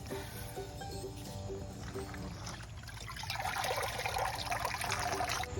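Steady gushing of water being pumped out of a pond filter, growing louder and splashier partway through, with a low mechanical hum beneath.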